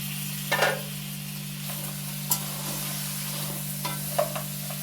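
An onionless crab roast is stirred in a pan over a slow flame. A few sparse scrapes and taps of the spoon sound against a steady low hum, with quiet sizzling underneath.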